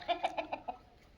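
Hens and roosters cluck in a farm shed, five quick, fairly close clucks in an even rhythm that then stop, quiet and alone with no talking.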